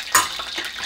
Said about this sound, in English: we're going to take some of the oil that we cook the food in and just